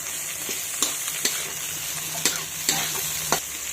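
Chopped tomato is tossed into softened sautéed onion in a pan, giving a steady hiss of frying broken by about six sharp spatula clicks and scrapes.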